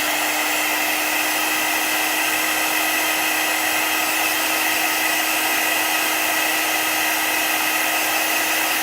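Hair dryer blowing steadily to dry chalk paste on a craft transfer, a loud continuous whine and rush of air with a constant tone and no breaks.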